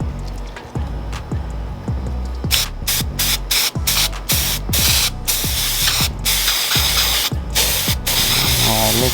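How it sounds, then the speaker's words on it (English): A spray can blasts weld-through primer onto rusted trunk metal of a B-body convertible, giving a loud, steady, close hiss in continuous bursts with brief rattly breaks. "We're gonna spray this, this is for weld through primer."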